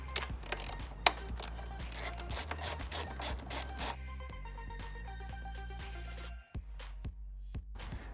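An 8mm socket on a ratchet clicks steadily while loosening the screws of an idle air control valve on an Acura TL or Honda Accord, with close, rapid pawl ticks, then slower separate clacks near the end.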